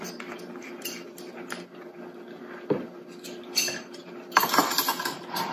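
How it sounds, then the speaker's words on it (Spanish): Utensils clink and scrape against a bowl as vegan tuna is mixed, with irregular close metallic taps that grow busier and louder toward the end. "ahora vamos a mezclar todo"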